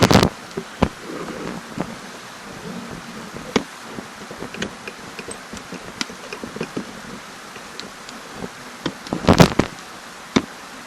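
Ice rain patters on a hot tent in scattered sharp ticks and taps, irregular and fairly close, with a few louder hits standing out against a quiet background.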